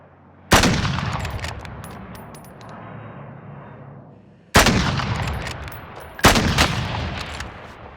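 Gunfire in Call of Duty Warzone, Cold War era: three sharp, loud reports spaced seconds apart, each with a long ringing decay and a metallic clink, clear against quiet background.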